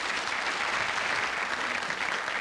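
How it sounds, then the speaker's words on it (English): Studio audience applause on a television trivia game show, a dense, steady wash of many hands clapping at full volume for the whole stretch with no voices over it. "your very own personal round of applause."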